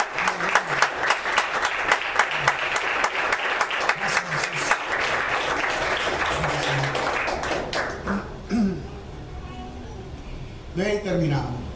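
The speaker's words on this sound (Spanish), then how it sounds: "Dale un aplauso, Señor" A church congregation at a Nazarene service in Winter Haven, Florida claps together during a Christmas sermon. The clapping is loud, quick and rhythmic, then fades out as a preacher's voice carries on alone.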